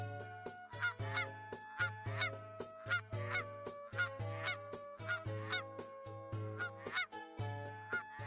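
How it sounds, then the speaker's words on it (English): A goose flying past honks repeatedly in a steady, rhythmic series of loud, nasal calls, alone with no talk. "Goose just flew by."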